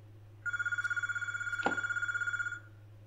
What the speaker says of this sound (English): I'm going to ignore that phone call because it has voicemail